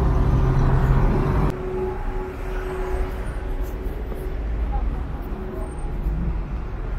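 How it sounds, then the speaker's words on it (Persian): Traffic on a busy Tehran boulevard makes a steady, broad rumble of passing vehicles close by, with a person talking over it throughout. "کلا این بلوار همیشه ترافیکه."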